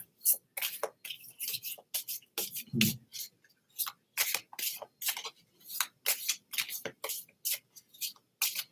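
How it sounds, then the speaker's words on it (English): A deck of playing cards is shuffled over and over close up, sharp riffling flurries and taps repeating in a steady clatter, with a muffled knock partway through. "I shuffled them up nice for you"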